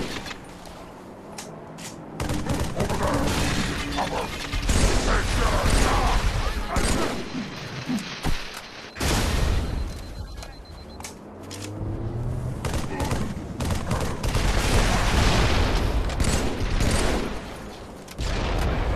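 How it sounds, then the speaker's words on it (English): Dense bursts of assault rifle and battle rifle fire and grenade blasts against brutes on Legendary in Halo 3's mission The Ark, with loud repeated volleys broken by short lulls and a quieter spell in the middle. "just take them all out with your assault rifle, battle rifle, and a couple grenades"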